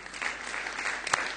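A committee meeting audience gives a brief round of applause, a dense burst of many hands clapping at moderate distance, with no speech over it.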